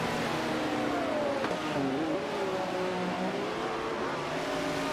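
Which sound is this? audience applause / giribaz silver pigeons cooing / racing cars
racing cars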